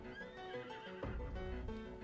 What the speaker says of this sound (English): Is that the horse? Yeah, that's the horse